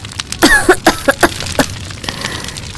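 Repeated harsh coughs in quick succession, loud and close, several bursts in a row over a noisy background.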